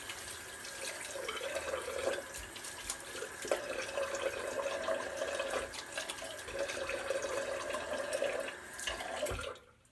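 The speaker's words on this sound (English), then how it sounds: "Do a quick rinse." Tap water running steadily to rinse a razor, a continuous close splashing stream with slight changes as the blade passes through, stopping abruptly at the end.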